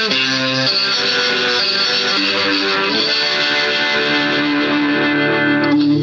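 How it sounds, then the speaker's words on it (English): An electric guitar plays sustained chords through a rotary reverb effect from a Digitech Crossroads pedal, a swirling, spacious modulation with a thick shimmering wash that keeps the sound moving throughout. "It's a rotary reverb."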